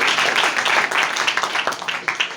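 A church congregation claps loudly in praise during worship, a dense burst of applause with some individual claps standing out as it begins to taper.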